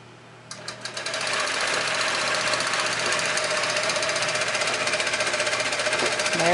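Longarm quilting machine stitching a lock through fabric, starting with a few separate thumps and then settling into a fast, steady mechanical chatter that stays close and prominent throughout.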